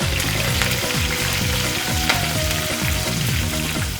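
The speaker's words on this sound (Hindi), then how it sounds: "ये लीजिए, अब हम इसको लगाते हैं तड़का।" Moong dal tempering in a dhaba-style kitchen, cumin and curry leaves hitting hot fat, gives a loud, steady frying sizzle with rhythmic stirring scrapes throughout, no talking.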